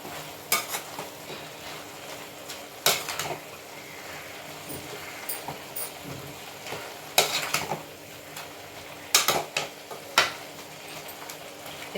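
Grated coconut is stirred into a peanut and drumstick leaf stir-fry, a spoon scraping and clinking in the pan at irregular intervals over a soft, steady sizzle.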